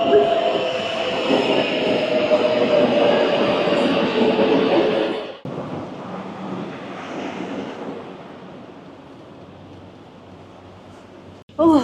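A continuous rumbling roar of the Dogu Express train leaving Istanbul, loud at first, then quieter and steadier after a sudden drop, with a brief clatter at the end.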